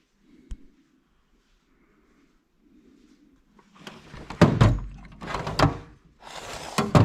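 A metal tool box drawer slides open and shut several times in quick succession, with sharp rattling clunks and scrapes close by after a faint knock and quiet rustling at the start.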